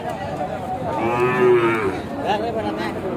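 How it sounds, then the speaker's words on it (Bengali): Several Sahiwal bull calves, six to eight months old, moo at a cattle market in Joypurhat, with one long, loud low call in the middle and a shorter moo near the end over a steady market murmur. "গরুগুলি দেখানোর চেষ্টা করে চলুন, গরুগুলি দেখি আমরা"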